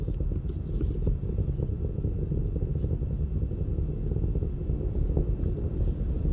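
Falcon 9 first stage engines roaring in flight, a steady, dense low rumble that holds without a break at even loudness, heard from a distance with no talk over it.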